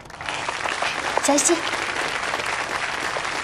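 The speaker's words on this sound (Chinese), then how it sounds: "掌声有请" A university welcome ceremony audience applauds a freshman representative coming up to speak, steady clapping throughout with a short voice calling out over it midway.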